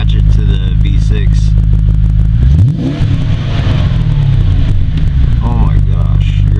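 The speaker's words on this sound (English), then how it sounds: "V8 Crossfire. I want to get an exhaust clip and match it to the V6." Chrysler Crossfire fitted with a swapped Mercedes M113 5.0 V8 and aftermarket exhaust, a loud, steady, throaty exhaust drone with a rev sweep rising midway, recorded close.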